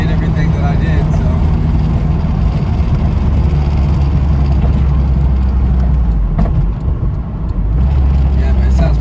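A Toyota MR2 SW20 with a swapped K24 engine runs steadily nearby, a loud continuous rumble with some background commotion.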